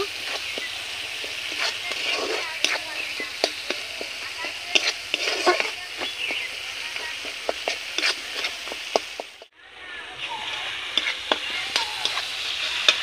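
Ground cumin and spices sautéing in a pan for a vegetarian fish-style curry, a steady close sizzle with frequent scraping stir strokes throughout, briefly cut off near the end before the frying hiss resumes.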